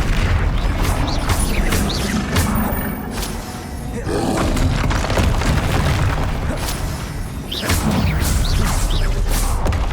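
A Confringo explosive spell going off in Hogwarts Legacy combat, with deep booming blasts and roaring rumble that stay loud and continuous throughout, punctuated by sharper bursts.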